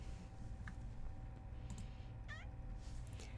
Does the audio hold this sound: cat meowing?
yes